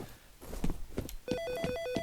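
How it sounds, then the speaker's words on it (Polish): An old-style telephone bell rings in a steady repeating trill inside the horror shooter game F.E.A.R. Extraction Point, preceded by heavy footsteps and thuds. "Telefon dzwoni, jakieś dziwne."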